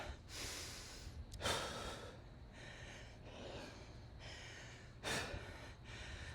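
Heavy, sharp breaths and snorting exhales during a pull-up workout come in several close, uneven bursts, with quieter panting in between and nothing spoken.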